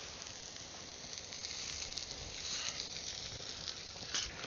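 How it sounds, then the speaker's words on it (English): An egg and two sausage links frying in a pan at a fall campsite, a faint, steady crackling sizzle with soft popping that swells slightly toward the end. "So now that my egg is cooking, I'm gonna go ahead and throw in 2 sausage links."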